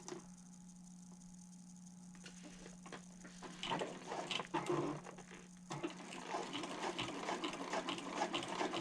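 A sewing machine top stitches along the edge of a handbag panel, a soft, close, steady mechanical whir of rapid needle ticks that starts quietly and grows fuller partway through, with no talking.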